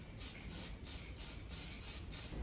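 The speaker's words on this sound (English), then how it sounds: "hit them with some copper head gasket sealant. It's basically just a spray paint" Copper head gasket sealant is sprayed from an aerosol can onto the cylinder heads of a Craftsman LT1000 lawn mower engine in short repeated bursts, a faint, soft hiss pulsing about seven times.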